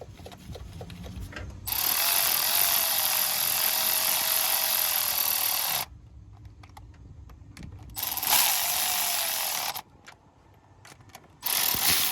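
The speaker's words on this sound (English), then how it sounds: "You want to just snug them. Don't go crazy tightening them up." A ratchet drives the bolts of a VVT solenoid on a Honda engine in bursts of rapid clicking, several long runs separated by short pauses with faint handling noise in between.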